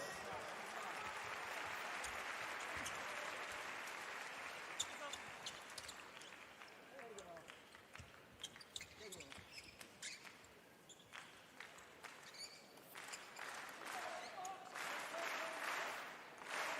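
Crowd cheering and applauding in a basketball arena during a B.League game between the Ryukyu Golden Kings and Alvark Tokyo. The roar is loud and steady throughout, with claps and ball bounces mixed in and a commentator talking over it.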